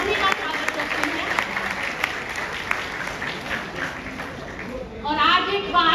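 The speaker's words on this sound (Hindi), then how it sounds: "तो एक बार जोरदार तालियों के साथ हम सभी का स्वागत करते हैं।" Applause welcoming guests at a college farewell party for B.Sc and M.Sc students, a steady dense clapping from a crowd filling the room, with a voice rising over it near the end.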